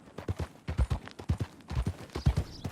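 Horse hooves clip-clopping while riding in Red Dead Redemption 2, a steady rhythmic run of fairly close, loud hoofbeats with no one talking.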